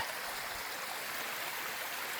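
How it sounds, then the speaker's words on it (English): A waterfall swollen by heavy rain rushes steadily on Kinder Scout in the Peak District, a constant broadband roar of falling water with no other sounds. "The waterfall's doing quite well."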